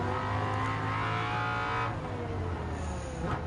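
A 1999 Nissan GT-R GT500 race car in Gran Turismo 7 drones at high revs through a fast corner, loud and steady with a sustained engine whine and harmonics, shifting pitch slightly near the end.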